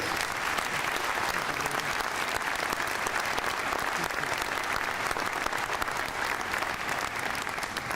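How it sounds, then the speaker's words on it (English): Sustained applause from a commencement crowd at a summer graduation, a dense, even roar of many hands clapping that holds steady from start to finish with no speech. "Please give him another round of applause for humanitarian skills"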